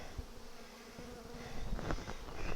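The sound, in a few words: honey bees buzzing around an open hive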